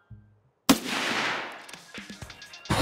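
A single loud sniper rifle shot from a P5000 M61 in Escape from Tarkov cracks out sharply after a moment of near silence, its echo rolling away into the distance before a second burst of sound arrives at the end.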